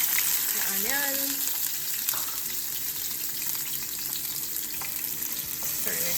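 Onions frying in hot oil in a saucepan, a steady broadband sizzle that holds evenly throughout, close and fairly loud, with a few faint clinks and stirring sounds over it and no talking.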